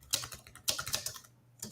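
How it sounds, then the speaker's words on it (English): Loud, rapid computer keyboard typing during an online Q&A stream, in bursts of clacking keystrokes, close up, with a brief pause before the tapping resumes. "Someone's keyboard is really loud."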